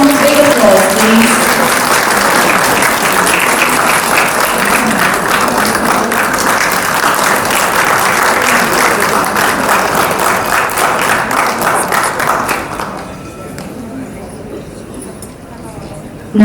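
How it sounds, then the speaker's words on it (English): Loud, sustained applause from a large audience at the Himalaya Airlines 10th anniversary celebration, a thick continuous roar of clapping lasting about thirteen seconds before dropping away abruptly into quiet room tone. "Let's all give a round of big applause, please."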